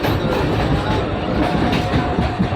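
A crowded suburban passenger train near Barasat runs with a loud, close, continuous rumble and rattling wheel noise heard from inside the carriage.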